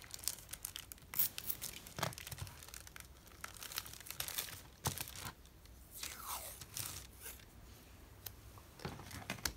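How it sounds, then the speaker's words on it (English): Vibrant washi tape is torn by hand to seal a package, giving quiet, close crinkly rips and scrapes in short, irregular bursts with no talking. "let's put some really vibrant washi tape on here. Let's close it down with some tape just in case."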